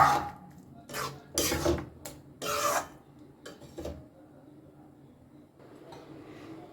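Egg tarka with chopped coriander stirred in a pan, heard as several bursts of rasping, scraping spoon-on-pan strokes over about four seconds, close and fairly loud, then quieter shuffling.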